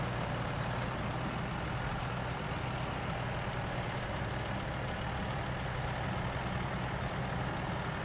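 A heavy truck engine in the video game SnowRunner drones continuously as the vehicle strains under load, a low steady rumble at moderate volume with no talking.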